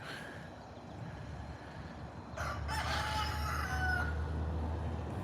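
A small young rooster crows once in a garden, a short reedy cock-a-doodle-doo rising over low steady background noise at close range.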